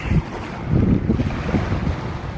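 Wind buffets the microphone on a boat at sea while waves wash and slap against the hull, rough and close with gusty low rumble.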